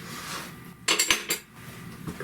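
BBQ pork being stirred into a full pot for a polenta casserole, with a short burst of clinking and scraping of a spoon against the pot between quieter stretches.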